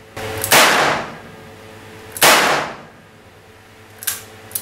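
Three sharp, loud double-action revolver shots crack at a shooting range, spaced a second or two apart, each with a brief ringing decay and quiet pauses between them.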